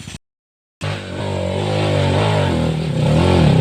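A motorcycle engine starts up after a brief silence and holds a loud, close, rumbling idle that slowly rises in pitch as the rider revs it.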